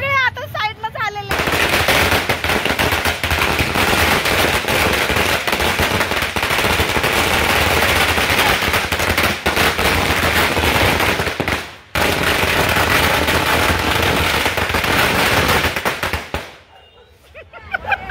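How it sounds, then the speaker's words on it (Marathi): Firecrackers burst in a dense, rapid string for more than ten seconds, loud and continuous with a brief break partway, at a celebration welcoming a newborn baby home, with faint voices around. "बघा फटाके फुटणं चालू आहे."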